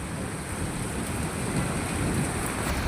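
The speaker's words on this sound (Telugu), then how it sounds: "ఎంత వాన పడుతుంది చూడండి." Heavy rain pours down outdoors in a continuous, loud, dense wash of noise that holds steady for the whole stretch, with no talking.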